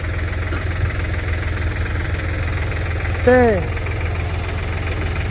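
A 105-horsepower New Holland tractor engine idles with a steady low rumble throughout, and a short descending whistle cuts in briefly near the middle.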